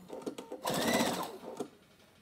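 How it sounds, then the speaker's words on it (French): A sewing machine stitches in short close bursts, restitching along an existing seam on a zipped pouch, with one longer steady run in the middle and no talking. "je vais repiquer sur la même piqûre pour que je ne vois pas l'autre piqûre"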